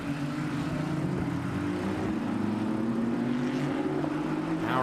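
Ferrari Challenge race car powering out of the hairpin at Suzuka, a loud, steady engine drone with rising pitch as it accelerates, continuous throughout with no voices.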